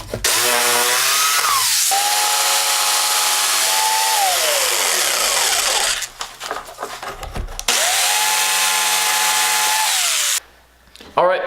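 A power router in a router sled cuts a channel in walnut for an epoxy table, a loud whining motor that spins up, runs with a steady cutting drone and winds down twice, with quieter handling noise between passes.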